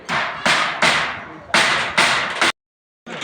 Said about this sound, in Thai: กำลังสิวางสังกะสีตอกสังกะสี